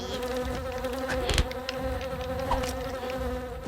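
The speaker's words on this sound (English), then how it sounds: "Come here, stupid bee." Steady insect buzzing from a bee in the video game Karvaros, a continuous droning hum with slight wavering that persists throughout, fairly close and alone without speech.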